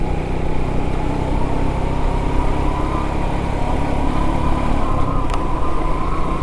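Road traffic on the Dhaka-Chittagong highway near Cumilla: a loud, steady engine and road drone from a moving vehicle, continuous throughout with no voices.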